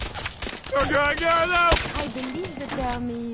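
Gunfire crackles in the Fallout 4 video game, sharp scattered shots under a man's and a companion's voices speaking over the action.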